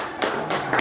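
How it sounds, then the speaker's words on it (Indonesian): A few quick, close claps from students in a classroom applauding a group, brief sharp hits spaced unevenly over less than a second. "Oke, tepuk tangan buat kelompok."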